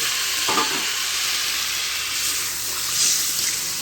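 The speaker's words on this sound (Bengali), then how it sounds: "এই 1 বাটির পরিমাণে জল দেবো।" Water poured into a sizzling pan of fish with taro root while cooking, giving a steady hiss and sizzle with a brief splash and stir at the start, close and fairly loud.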